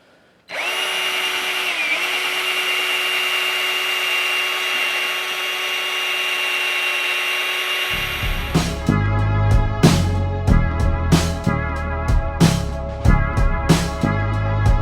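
A power drill with a buffing attachment polishes a car headlight during restoration, a steady close whine that runs alone for several seconds before turning choppy and uneven with bumps and knocks.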